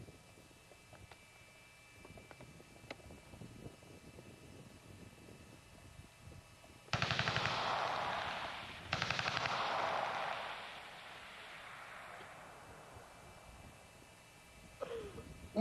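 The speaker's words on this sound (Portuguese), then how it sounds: "Uma metralhadora pesada produz um som bastante característico." A heavy machine gun fires two sustained bursts at a military recruit training field, harsh rapid rattling roughly two seconds each, separated by a short gap, then fading to quiet ambience.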